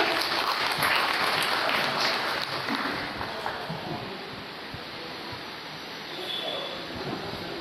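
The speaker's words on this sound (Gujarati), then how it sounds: "તાળીઓથી એમનું સ્વાગત કરીએ." Sustained crowd applause at a community scholarship ceremony in Vadodara, a dense wash of clapping from a seated audience welcoming a guest onto the stage, steady and fairly loud before easing slightly toward the end.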